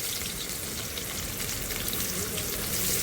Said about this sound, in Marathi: हा बघा, तेल तापलेलं आहे आणि आता कांदा टाकतोय.